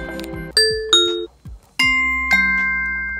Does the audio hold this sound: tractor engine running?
no